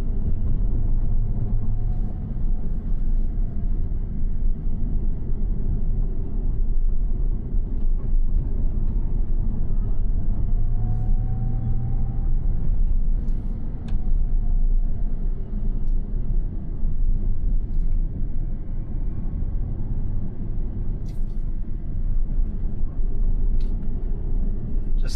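A Tesla Cybertruck with steer-by-wire drives along mountain roads, its steady road and motor rumble holding close and even throughout, with a few faint higher ticks above the drone.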